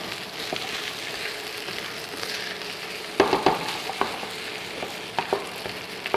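Pineapple fried rice stir-fried in a pan, a constant dense sizzle with scraping and clinking spatula strokes growing more frequent in the second half, close and loud with no talk.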